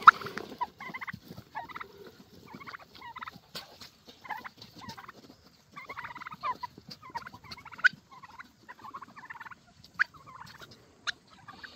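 Broad-breasted bronze turkeys gobble repeatedly in bursty, rattling calls, some overlapping, fairly close with quiet gaps between.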